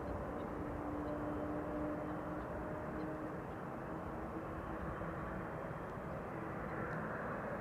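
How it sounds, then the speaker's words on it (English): An Emirates SkyCargo cargo plane arriving at Amsterdam Schiphol from Aguadilla gives a steady, distant jet roar. It holds evenly throughout with a faint tonal whine and no sharp changes. "Emirates Sky Cargo arriving from Aguadilla"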